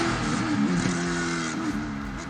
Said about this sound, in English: it's the Coyote engine